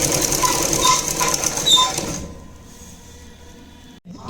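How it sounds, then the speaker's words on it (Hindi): A sewing machine stitching an Afghani salwar, a steady whirring run for about two seconds that then stops, leaving quiet room tone. "यहाँ पर एक सिलाई और लगा देंगे साइड में।"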